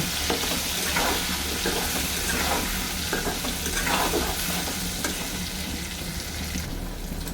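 Potatoes with turmeric and salt sautéing in oil, a loud, dense sizzle that runs throughout with soft scraping from stirring mixed in, heard up close with no voices.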